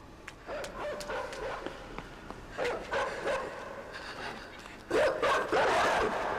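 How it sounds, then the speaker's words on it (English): Dog barking in the side-scrolling video game INSIDE: a few short yips and barks come in separate bursts against a faint game background, with the strongest burst near the end. "That is a bad puppy."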